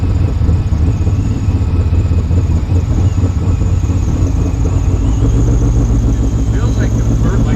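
Ford F150 prerunner truck with a high-stall torque converter driving along, its engine producing a loud, steady low rumble and drone that persists without break throughout, with voices faintly mixed in.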